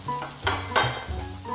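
Eggs and sausage fry on a hot griddle, a steady close sizzle broken by a few scraping stirs and spatula strokes, with no voices.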